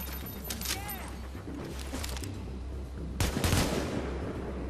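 Distant sniper fire and gunshots in the shooter game The Division, with a sharp louder crack near the end over a constant rumbling battle background.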